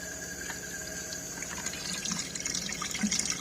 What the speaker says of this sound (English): So I've got to turn on the water first.